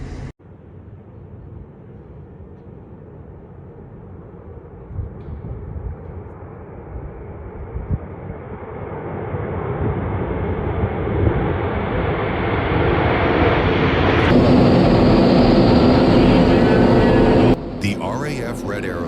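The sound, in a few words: small plane aircraft engine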